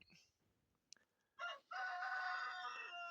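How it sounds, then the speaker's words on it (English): A rooster crows inside a chicken coop, a loud, drawn-out cock-a-doodle-doo close by after a few soft clucks and small noises. "He's a real nice rooster, but that stinking rooster gets up when it's still dark."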